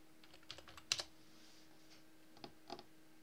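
Typing on a computer keyboard to enter a search in a Linux Mint browser. Soft, close key taps arrive in small scattered clusters against a quiet room hum.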